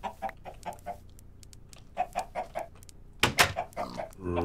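Chickens in a video game cluck in short, repeated bursts, steady at first and then louder and busier toward the end, close by and alone without talk.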